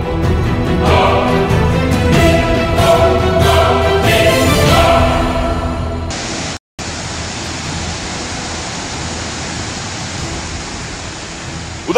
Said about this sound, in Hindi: गुजरात के सोमनाथ में जामजट झरने ने लिया रौद्र रूप अख्तियार कर लिया है